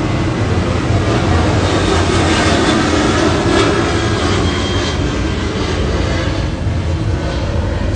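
An airplane passes overhead, heard as a steady, loud, broadband engine roar that holds throughout without talk.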